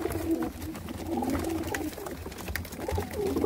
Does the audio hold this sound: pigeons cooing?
yes